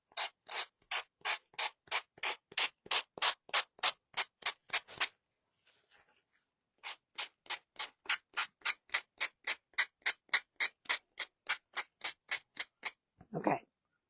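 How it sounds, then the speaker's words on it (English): Rhythmic strokes of a small sanding tool rubbing along the edges of a fall tiered-tray craft piece, about a dozen steady passes, a brief pause, then another run of even strokes ending in a short scuff. "I'm just taking my little gator here and we're going to sand off these edges."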